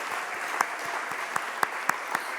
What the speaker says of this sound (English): Let's give one more round of applause for all of our Special Educators of the Year